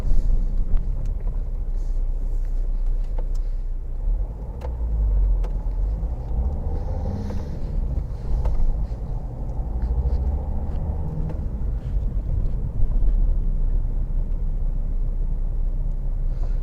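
Inside a car crawling through congested town traffic between Canterbury and Chilham, with a low steady engine and road rumble, faint wind noise and occasional small knocks, no talk.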